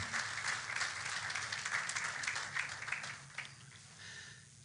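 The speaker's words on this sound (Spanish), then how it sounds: "pues un aplauso a nuestros hermanos que nos ayudan con eso" Applause for helpers at a church gathering, a broad steady patter of many hands that holds for most of the stretch and then thins and softens near the end.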